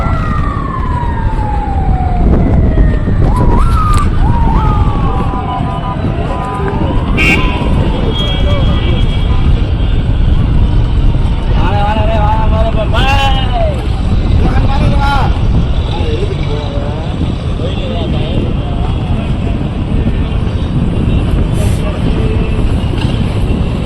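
Ambulances, large and small 108 emergency vehicles, drive past through a loud political rally crowd in Madurai, their wailing sirens rising and falling over constant crowd noise and nearby talk.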